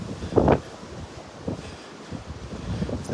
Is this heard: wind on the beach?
yes